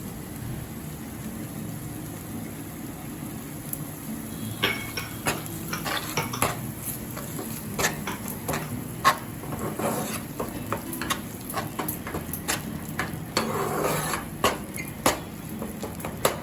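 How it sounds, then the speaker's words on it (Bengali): Poppy seed paste and cashew paste fry in a pan for a paneer butter masala, with a steady sizzle under repeated clinks and scrapes as a spoon stirs against the metal. No one speaks. "এটা আমি 2-3 মিনিট ফ্রাই করে নিয়েছি"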